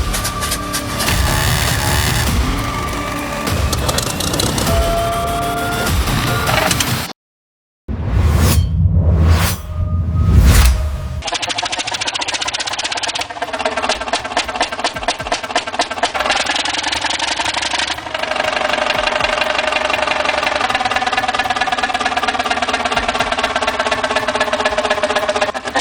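An old Fairbanks Morse engine starts and runs, giving a loud, sustained mechanical rumble with rapid rhythmic pulses, broken by a brief silence and a few sharp bursts before steady running resumes.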